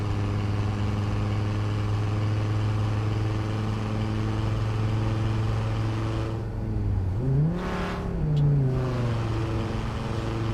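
Hennessey VelociRaptor Ford 6x6 engine in a video game mod, a loud steady drone revving high, then dropping in pitch at a gear change and climbing again.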